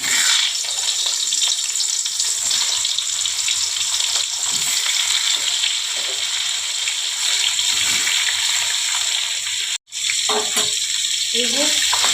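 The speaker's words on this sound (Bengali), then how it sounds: "এবারে আমি মাছের মাথাগুলো ভেজে নেব।" Fish heads frying in hot oil, a loud continuous sizzle and spatter close by, with a brief dropout near the end followed by faint clinks.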